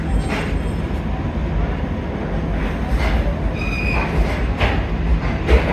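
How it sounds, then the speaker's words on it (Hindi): A Pakistani passenger train, twin of the Shah Hussain Express, rolls onto a washing line, a loud steady rumble of wheels on rails with intermittent squeals and clicks, close by. "ले जी, शाह हुसैन एक्सप्रेस की जुड़वा बहन हमारे पास वॉशिंग लाइन पे आ गई है।"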